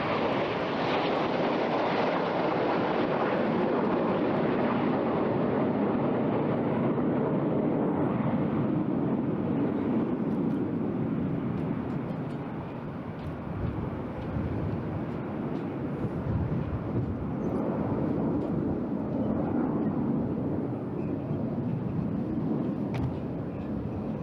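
A Red Arrows jet climbs during an air display at Eastbourne Airshow, a loud, steady jet roar mixed with heavy wind buffeting that holds throughout and eases slightly midway.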